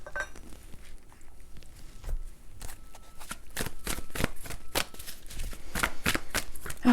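A deck of reading cards is shuffled by hand, a run of crisp riffling flutters that grow denser and louder toward the end, close up with no talking.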